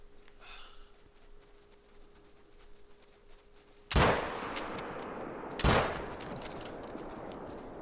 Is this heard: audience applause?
no